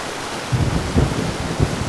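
A thunderstorm with heavy rain pours down in a forest. A dense, steady hiss of rainfall runs throughout, with low rumbling swells that rise and fall several times, close and loud.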